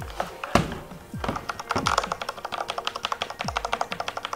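A second computer keyboard, compared against a Corsair K57 RGB Wireless, typed on close up, its bright, sharp clicks turning into a fast, even run of crisp keystrokes after a few heavier thumps, with no talking.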